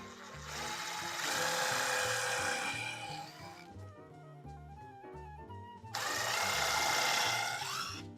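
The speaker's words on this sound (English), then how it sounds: "Pre-drill that out a little bit more. Because this is cedar, and cedar loves to split." Power drill pre-drilling a hole in cedar during a woodworking build, a loud steady whirring burst for about three seconds, a quieter lull with lighter rattling, then a second loud drilling burst near the end.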